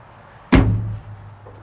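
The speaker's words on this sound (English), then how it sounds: "you can come in and out of this pass-through door" A pass-through door into the stall area of a 2019 Cimarron Stierwalt livestock trailer shuts with one sharp metallic slam, leaving a short ringing hum and a faint knock afterward.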